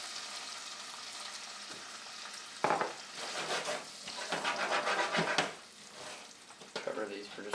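Lemon juice hits a hot pan and sizzles loudly, followed by wet frying and stirring scrapes that swell and fade over several seconds, close and clear.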